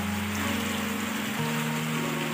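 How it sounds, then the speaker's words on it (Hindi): Rain falls steadily in Surankote, a dense, even hiss of drops on surfaces with a low tonal hum beneath, continuous and fairly close, with no talking. "गाइस आप देख सकते हो कितनी बारिश हो रही है और मौसम इतना ठंडा है ना"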